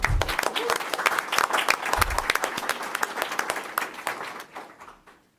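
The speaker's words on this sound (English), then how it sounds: "So if we can give a nice round of applause for Abby" An audience at a Noblesville school board meeting claps in a round of applause, crisp individual claps close by that build and then thin out and fade toward the end, with some voices briefly underneath.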